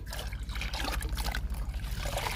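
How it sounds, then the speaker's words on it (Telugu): Pomegranate liquid fertilizer for flowering plants pours in a steady close trickle with gurgling splashes, continuous and moderately loud. "ఈరోజు పూల మొక్కలకి దానిమ్మ లిక్విడ్ ఇస్తున్నాను"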